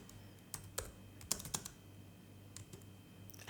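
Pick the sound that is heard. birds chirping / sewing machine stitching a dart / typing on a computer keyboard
typing on a computer keyboard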